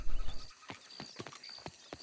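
Hooves of a horse in the video game Red Dead Redemption II clip-clop in a steady, even rhythm, close and distinct, after a brief low rumble at the start.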